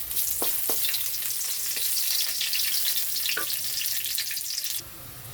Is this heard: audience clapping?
no